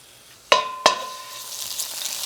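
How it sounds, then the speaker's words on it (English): Minced garlic hitting hot olive oil in a skillet, two sharp clinks of a utensil on the pan followed by a rising, steady sizzle. "We're going to saute a little minced garlic"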